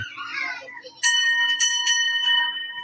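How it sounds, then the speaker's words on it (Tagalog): A bell rings out loudly with bright, sustained tones, struck several times in quick succession after a moment of background voices. "Tumunog na po yung kampana."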